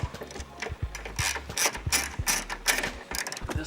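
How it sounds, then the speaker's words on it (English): A ratchet with a 14mm socket loosens strut bolts on a GT86/FRS/BRZ, giving rapid, close, repeated pawl clicks in quick strokes alone. "you can use your 14mm socket and start bringing those loose"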